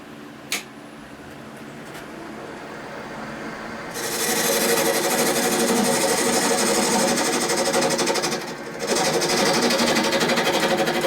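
Wood lathe spinning a ficus vase blank while a tool cuts a tenon, a loud continuous whirring, scraping roar that rises sharply partway through and briefly dips before resuming, with no voices.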